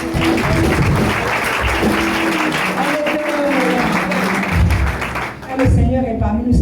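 A church congregation applauds and claps steadily through a lively service, with a loud, dense wash of hands under voices and music.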